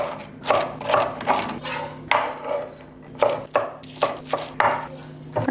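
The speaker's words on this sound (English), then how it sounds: "So I'm gonna start by chopping that up" A knife chops celery and green onion on a cutting board, giving a run of crisp, uneven taps in quick bursts with brief pauses between them. The sound is close and clear, with no talking.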